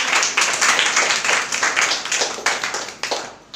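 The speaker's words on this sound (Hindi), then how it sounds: "प्रेज द लॉर्ड, ताली बजाओ जी।" Congregation clapping hands together during a church service, a dense, steady round of applause that stays loud and close throughout with no talking.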